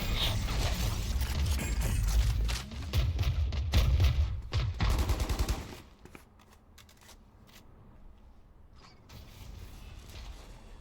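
Dense bursts of rapid gunfire and crackling weapon and ability effects fill the first half of a Valorant esports match between PUP and EG, then fade to quieter clicks and scattered shots.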